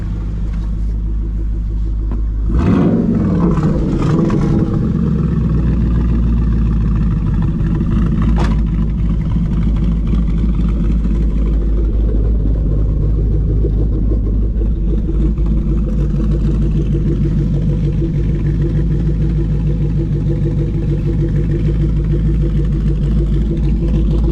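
A 2012 Ford Mustang Boss 302 with Kooks sidepipe exhaust idles loud and close in track-key mode, its deep steady rumble broken by a sharp blip a few seconds in, then settling into an even, lumpy burble.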